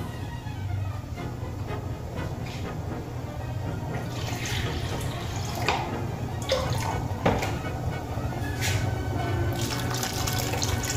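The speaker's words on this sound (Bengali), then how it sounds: "এবার আমি এর মধ্যে দিয়ে দেব পরিমাণ মতো জল।" Water is poured into spiced green peas in a pan, a steady wash of pouring and splashing that runs throughout at moderate level, with a few brighter splashes near the end.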